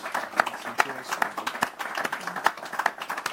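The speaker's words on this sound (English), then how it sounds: "Give him a round of applause, Solomon, please" Scattered applause from a small audience at a live event, with individual sharp claps standing out in an uneven rhythm while a voice talks over it.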